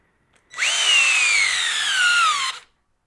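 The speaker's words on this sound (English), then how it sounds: "Let's see how much torque the drill makes" A Ridgid cordless drill running at speed 1 drives a lag bolt into pressure-treated wood. A loud, steady motor whine pulls down in pitch as it loads up, lasting about two seconds before it cuts off cleanly.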